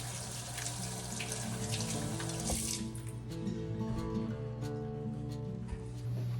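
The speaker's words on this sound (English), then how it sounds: "washing my hands about 6 or 7 times whenever I'm cooking raw chicken" Water runs steadily from a tap into a sink, splashing continuously as hands move under the stream, with a low hum underneath.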